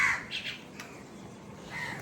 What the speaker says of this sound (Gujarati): કારણા કાબરો આવી ગયા છે એમનું ભોજન લેવા.